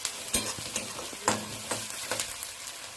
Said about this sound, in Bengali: মাখনে পেঁয়াজটা ভাজলে আরও টেস্ট ভালো হয়